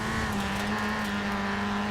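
Engine of a Golf GTI in Forza Horizon 4, running side by side with a Crown Vic during a rally race, a steady loud drone holding one pitch with no voice over it.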